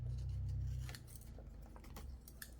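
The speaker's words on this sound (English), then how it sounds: "So grab your scissors and just give that a little trim." Scissors snip at the edge of a paper cup in a scrapbooking craft, a few quiet, close cutting clicks over a low hum with no talking.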